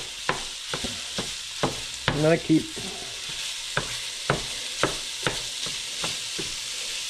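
Meat and onions sizzle in a hot pan while a utensil stirs them, and sharp scraping clicks land every half second or so over the constant frying hiss. A person speaks briefly in the middle.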